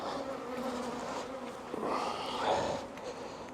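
Honey bees buzzing around a hive frame, a continuous layered hum of many insects nearby with swelling and fading tones, fairly quiet and without talk.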